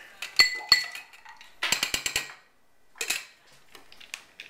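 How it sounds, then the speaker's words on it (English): Ice cubes clinking in a glass while a Jolly Rancher cocktail is mixed, sharp bright clicks and rattles arriving in small clusters with pauses between, close and fairly crisp, with no talking. "I got two, three ice cubes in here."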